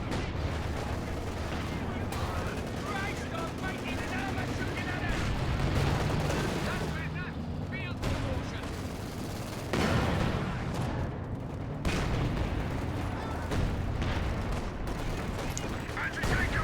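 In a real-time strategy game battle, a Bofors gun fires among dense, continuous gunfire and artillery booms. The barrage is loud and unbroken, with a commentator talking over it.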